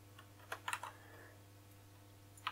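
Keyboard typing while C++ code is entered, a faint quiet burst of a few clustered keystrokes near the start and one more click at the end, with a steady low hum underneath.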